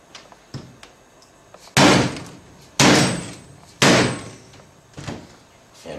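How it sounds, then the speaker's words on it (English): Plastic hammer driving a seal retainer into a 1996–2002 Dodge diesel vacuum pump, three loud, close knocks about a second apart, with lighter taps before and after. "With a plastic hammer, we're going to drive the seal retainer back in."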